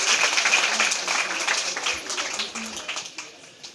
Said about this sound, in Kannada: ಆದರೂ ಕೂಡ ಚಪ್ಪಾಳೆ ಬಾರಿಸಿದ್ರಿ